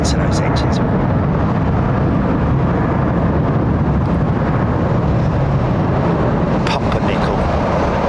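Loud, steady roar of jet engines from an airliner departing London Heathrow runway 09R, passing overhead and filling the whole stretch, with people talking over the rumble.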